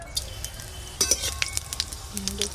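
Five-spice tempering crackles and sizzles in hot mustard oil for a sour fish dish, with scattered sharp pops and clinks of a utensil against the pan over a low steady hiss, close and fairly loud.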